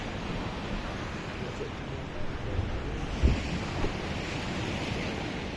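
Rough sea waves off Tobago roar and churn continuously with gusting wind buffeting the microphone, and a few heavier surges break through.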